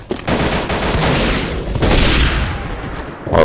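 Gunfire in Day of Defeat: Source during a Gun Game match, a dense, loud burst of rapid automatic shots and booming reports running almost continuously across the moment, with no talk over it.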